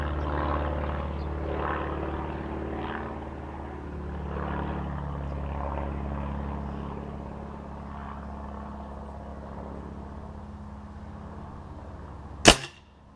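Stoeger RX20 TAC Dynamic air rifle fires a single H&N Baracuda pellet with one sharp, loud crack near the end, after a long stretch of low ambient rumble.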